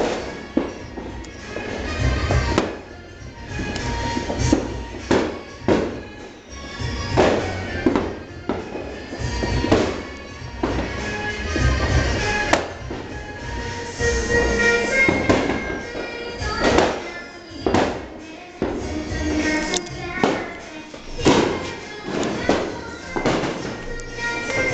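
Fireworks and firecrackers burst on New Year's Eve in a Vietnamese hometown, a dense run of sharp cracks and booming thuds at varying distances, loud and continuous with crackling between the bigger blasts.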